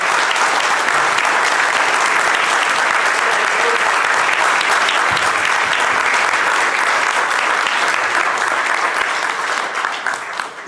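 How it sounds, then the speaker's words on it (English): A banquet audience at a county sports hall of fame gives the inducted class a long, loud round of applause, with dense, steady clapping that fills the room and only thins out in the final second. "Let's give them all a round of applause."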